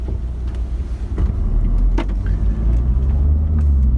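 A Volvo V60 Polestar with automatic transmission pulling away from rest and driving off, a deep low engine and road rumble that builds steadily, heard from inside the car with a few small clicks and no talk.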